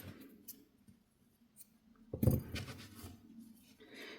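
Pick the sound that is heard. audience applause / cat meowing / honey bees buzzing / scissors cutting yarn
scissors cutting yarn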